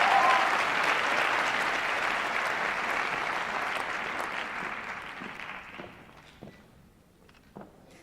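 Graduation ceremony crowd applauding, a loud dense burst of many hands clapping that gradually thins and fades, leaving a few scattered claps and soft thumps at the end.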